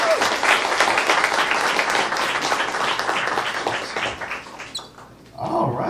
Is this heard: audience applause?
yes